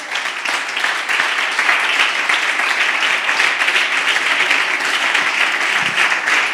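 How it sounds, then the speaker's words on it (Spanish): Church congregation applauds the Lord during an evening sermon, a loud, sustained roar of many hands clapping, steady and close throughout. "Dale un aplauso al Señor"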